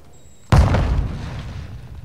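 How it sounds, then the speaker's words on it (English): A single loud, close grenade blast in a video game, with a sharp onset followed by a long rumbling decay. "That last grenade stuck me."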